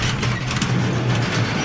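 A two-stroke engine, run on 5W-40 diesel oil in the crankcase, idles steadily close by with a low droning hum, no voices over it.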